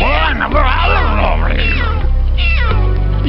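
A cartoon cat in the Freddi Fish video game gives several drawn-out, wavering meows in quick succession, loud and close, with a low musical backing underneath.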